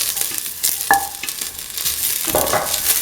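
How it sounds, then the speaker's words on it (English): Ginger and garlic sauté in a pan with a soft sizzle, broken by a few scraping stirs. No voices are heard. "sauteing the ginger and the garlic"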